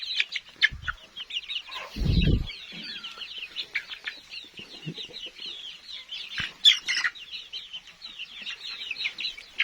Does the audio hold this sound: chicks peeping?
yes